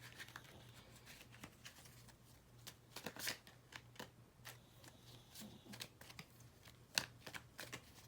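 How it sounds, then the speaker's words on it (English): Quiet riffling and snapping of playing cards being shuffled, in short irregular bursts with a low steady hum underneath. "5 more shuffles and then we're done"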